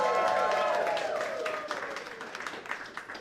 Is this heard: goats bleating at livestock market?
no